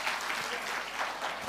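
A church congregation applauds during a Christmas sermon, a continuous, dense wash of many hands clapping at steady volume, heard from within a large room.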